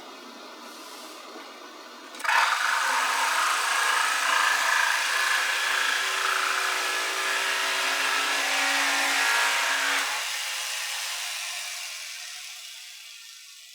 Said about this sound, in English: we are getting ready to use our jigsaw and start cutting